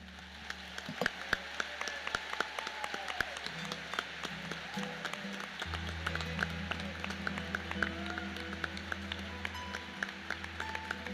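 Scattered, fairly light clapping from a church audience during a Catholic gathering, sparse and uneven rather than a full ovation, with low hum and background murmur beneath it.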